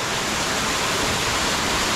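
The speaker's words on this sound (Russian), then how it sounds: "вот он сам водопад вот этот" The Gebius waterfall near Gelendzhik roars as a loud, steady rush of falling water, close and continuous with no talk.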